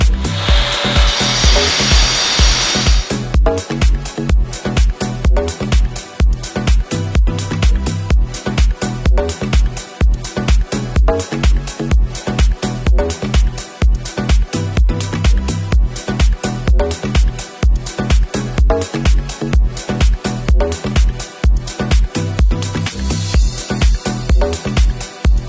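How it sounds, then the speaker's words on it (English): A power saw cuts concrete to prepare a surface repair deeper than six inches. The loud, continuous grinding pulses rhythmically, with a brief gap near the start before the cut resumes. "I'm going to go ahead and make a series of saw cuts that'll make it easier for chipping this concrete away."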